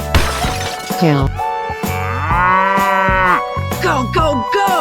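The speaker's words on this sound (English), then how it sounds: "Cow." A cow moos in a 3D animal slide video game, a long drawn-out moo framed by shorter calls, loud and close among lively game sounds and playful vocals.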